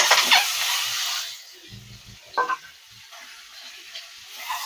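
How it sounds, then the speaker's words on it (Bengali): An egg fries in hot mustard oil, with a loud hissing sizzle at first that fades to a quieter crackle and occasional spatters. "প্রথম অল্প করে সর্ষের তেল দেবো, ডিমটা ভেজে নেবো।"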